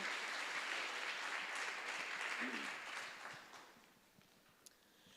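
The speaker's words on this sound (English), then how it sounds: "So a round of applause for our wonderful panelists." An audience at a July community meeting applauds its panelists: dense, loud clapping from many hands that swells and then gradually thins out and fades toward quiet.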